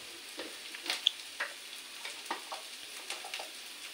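Fish frying in a pan on a stove, quiet sizzling broken by scattered crackles and pops at an irregular rhythm, with no talking.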